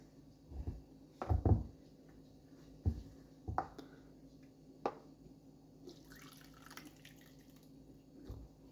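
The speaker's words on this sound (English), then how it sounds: "let me see if I can just pour it." Baked beans poured into a pressure canning jar, a few soft wet plops and drips in separate bursts, quiet and close, with faint clatter later.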